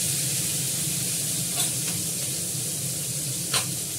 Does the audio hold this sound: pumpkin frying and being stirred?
yes